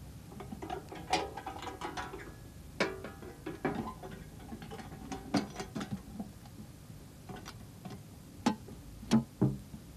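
Theodolite clamps being done up and the surveying instrument packed into its box, a scattered series of soft clicks, clacks and small mechanical knocks, close but quiet, with no talking.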